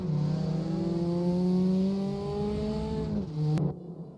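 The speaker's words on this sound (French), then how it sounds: "Il y a une accélération un peu trop forte sur les gaz." Porsche 944 Cup race car engine in RaceRoom racing simulation, at Zolder, revving hard and climbing in pitch, then a quick shift before the sound cuts off abruptly, loud and close.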